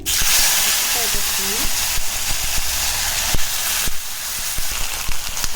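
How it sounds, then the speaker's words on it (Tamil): Mustard seeds and curry leaves hit hot oil in a pan and set off a loud, steady hissing sizzle. Rapid sharp pops and crackles sound throughout, and a voice talks over the frying. "கடுகு பொறிஞ்சிருச்சு கருவேப்பிலை போட்டு"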